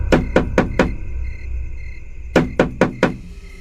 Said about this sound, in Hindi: तभी खटखटाने की आवाज आई।